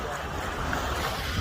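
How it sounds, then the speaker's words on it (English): Ocean waves at a Hilton Head Island beach, a faint steady wash of surf with wind noise rumbling across the microphone, no voices over it. "Waves settled down a little bit."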